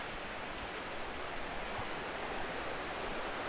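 A river at the Semungkis Survival Camp campsite in Hulu Langat flows with a steady, even broadband rush, a constant soft wash of water with no voices over it.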